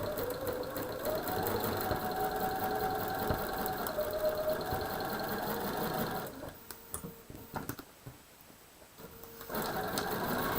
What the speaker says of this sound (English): So I sew all the papers, I sew all of the flying geese